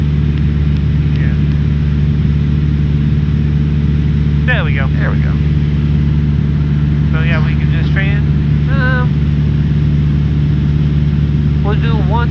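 Steady, droning engine hum inside the cockpit of a Cessna Skyhawk light aircraft, constant and loud throughout, with short radio calls and crew voices breaking in over it several times.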